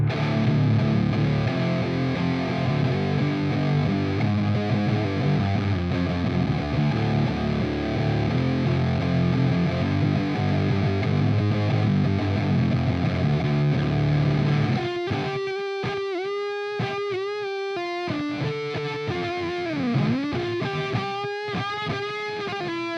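An electric guitar through an amp's straight, undriven channel chugs a heavy, chunky low D riff, dense and loud for about fifteen seconds, then shifts to sparser ringing notes and bends.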